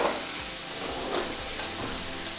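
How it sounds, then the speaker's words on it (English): Peppers with maple syrup sizzling in a pan, a steady hiss and crackle of frying with soft scraping strokes from stirring every half second or so, close and continuous with no talking. "So just go ahead and give it a stir."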